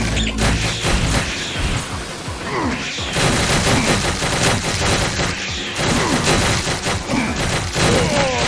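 Gunfire from Penny Blood: Hellbound rattles hard and loud through the whole stretch, rapid overlapping shots and heavy booms in a dense, continuous barrage.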